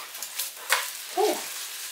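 An egg sizzles in a frying pan just after being flipped, a short close crackle with a brief louder hiss near the middle.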